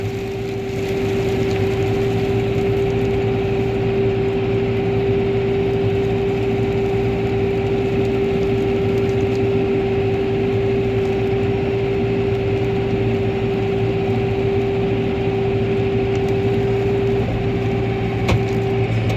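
A snow blower engine drones steadily and loudly while clearing a driveway, holding one unbroken hum with strong tonal layers for the whole stretch.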